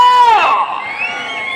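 A festival crowd cheers and shouts at a bullock-pair plowing contest at a Naga Nageswara Swamy temple event. A loud, high-pitched burst rises near the start, then settles into a steady roar of voices.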